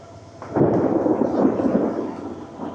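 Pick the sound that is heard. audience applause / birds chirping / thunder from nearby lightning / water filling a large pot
thunder from nearby lightning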